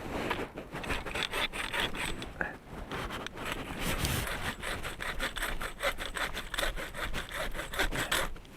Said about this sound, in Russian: Давайте ей что-нибудь попилим.